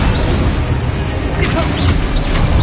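Spells cast in the Hogwarts Legacy video game, including Descendo, crash as dense, loud booming magical blasts in a continuous layered roar with small whooshing bursts riding on top.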